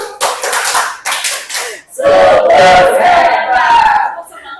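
Schoolchildren in an Indonesian classroom do a tepuk semangat cheer, a few group claps followed by loud collective shouting and chanting voices, close and energetic.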